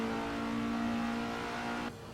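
An Estonian racing car with a Lada engine revs in the Assetto Corsa racing game, holding a steady high engine drone that cuts off sharply near the end, with no voices.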